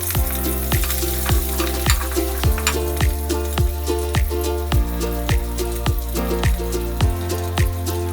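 Crushed ginger and garlic, green chilli and curry leaves frying in hot coconut oil, a loud continuous close sizzle with regular sharp stirring clicks roughly every half second.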